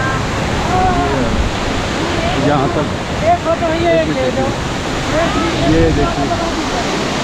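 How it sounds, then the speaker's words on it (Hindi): A waterfall on the Madhmaheshwar trek in the Himalayas roars as a dense, continuous rush of falling water, loud and close, while someone talks over it. "पूरा झरना ये गिर रहा है।"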